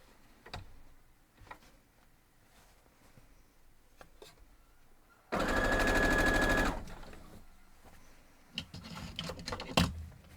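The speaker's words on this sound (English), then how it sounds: "I'm gonna line this up here and sew straight down." A sewing machine stitches fabric strips in one loud, fast, steady whirring burst of about a second and a half, framed by quiet handling clicks and rustles before and after.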